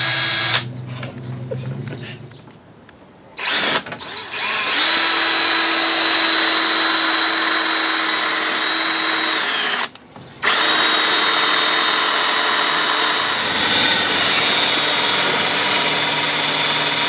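Power drill boring a hole, whining loud and close in short bursts at first, then running long and steady with a brief stop midway.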